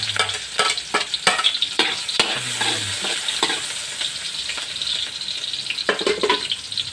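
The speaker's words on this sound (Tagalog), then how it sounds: "Lalagay na po natin ang bawang, luya, sibuyas." Garlic, ginger and onion fry in Golden Fiesta oil in a pan, a loud continuous sizzle punctuated by a quick series of sharp utensil taps and scrapes, then steadier frying near the microphone.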